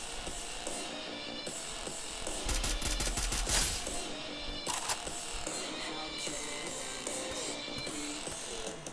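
SKS rifle fire in Free Fire, a quick volley of sharp shots in the middle, then a single crack, set among game clatter and mechanical clicks.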